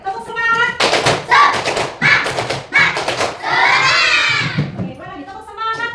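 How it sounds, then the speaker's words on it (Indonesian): Children in a classroom performing a tepuk semangat clapping chant, rhythmic bursts of group clapping in patterned beats alternating with shouted chanting voices, loud and close. "Ayo, tepuk semangat."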